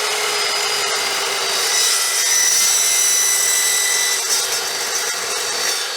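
Saw blade recutting 1/16-inch square tubular steel, a steady, bright, high-pitched grinding whine that holds for several seconds with slight swells in intensity, close and alone with no voices.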